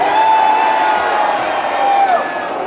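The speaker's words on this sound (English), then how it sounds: "Now you're all cheering." Concert crowd at a death metal show cheering and whooping loudly, a dense sustained roar of many voices with a few high shouts standing out, continuous throughout.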